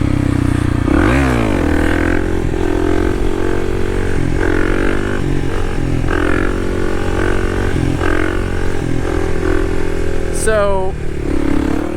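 A Kawasaki KLX300 dirt bike engine revs hard during a wheelie, loud and close with repeated throttle snaps rising and falling over a constant engine drone, a voice speaking briefly under the engine.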